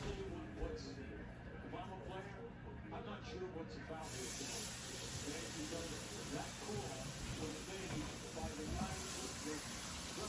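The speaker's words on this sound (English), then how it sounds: "It's hot. You hear it sizzling." Steak sizzling in a hot skillet: steady broadband hiss throughout, growing brighter and fuller after a few seconds, with faint voices murmuring underneath.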